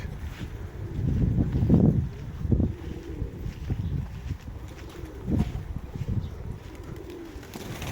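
Pigeons coo in a loft, soft low throaty calls rising in a few bursts over light wind and handling noise, with no talk.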